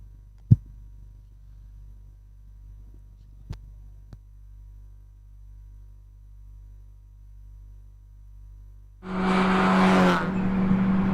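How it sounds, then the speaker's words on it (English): A Subaru WRX race car climbs the Legend of the Lakes hillclimb course. A long stretch of low hum and a few sharp clicks ends in a sudden loud burst of engine roar near the finish. "Josh Swan now making his way to the top of the mountain in the WRX"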